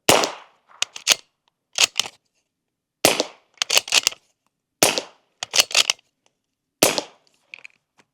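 Suppressed shots from a bolt-action .300 Blackout rifle firing open tip match ammunition give sharp, muffled cracks, each followed by a quick clack of the bolt cycling, spaced a second or two apart with silence between.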